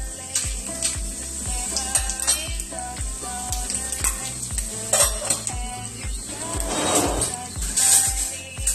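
Tempering for a raw banana tamarind stew: dried red chillies, cumin, mustard seeds, fenugreek and curry leaves frying in hot oil, a steady close sizzle with occasional clinks and stirring of a pan.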